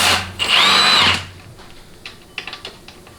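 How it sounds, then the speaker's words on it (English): A 1/2-inch impact wrench removing transmission bolts on a 4L60E teardown gives one loud, close, high-pitched burst of hammering whir, then falls away into quieter clinks and ratcheting taps of the socket and metal parts. "And use a 1/2-inch impact."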